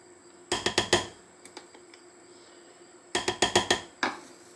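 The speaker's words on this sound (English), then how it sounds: "I'm going to stir that all together." A spoon stirs mayonnaise, basil and spices together in a bowl, making two bursts of rapid, bright clinks and scrapes, with a few faint taps in the pause between them.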